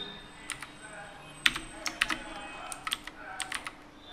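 Scattered keystrokes on a computer keyboard during graphic design work, light irregular clicks in short bursts across a few seconds, fairly close and quiet with no talking.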